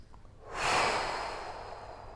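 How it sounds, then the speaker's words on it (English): A long, deep breath drawn in during a golf flexibility stretch for older players, a soft airy rush that swells quickly and then slowly fades, alone and close with no talking. "So breathe nice and deep from the stomach."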